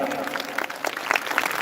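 A crowd applauds at an outdoor stage during the Ishar Gaura Mahotsav festival, welcoming a guest, with dense, steady clapping under a voice speaking over the noise.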